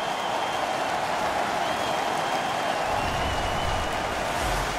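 Arena crowd roars after a hockey fight in the NHL 15 video game, a dense, steady wash of cheering noise at constant loudness throughout, with no individual voices standing out.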